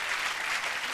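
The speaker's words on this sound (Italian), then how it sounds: "Un bel applauso." Brief burst of audience applause in a comedy club show, a soft wash of clapping lasting under a second.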